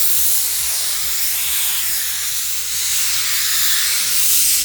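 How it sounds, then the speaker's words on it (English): A Laurastar ironing system steams fabric with a loud, continuous hiss that stays steady throughout, heard alone without talking. "I'm just going to steam."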